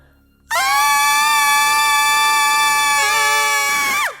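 A loud, sustained scream used as a horror sound effect bursts in suddenly and holds for about three and a half seconds, shifting pitch near the end before cutting off.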